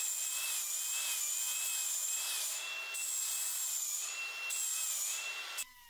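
Grinder blending welds smooth on a steel rocket stove: a loud, continuous high whine held close, dipping briefly in pitch twice as the tool bites, then cutting off abruptly at the end, with no voices.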